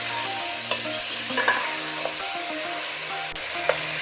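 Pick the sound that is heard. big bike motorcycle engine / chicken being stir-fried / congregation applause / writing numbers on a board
chicken being stir-fried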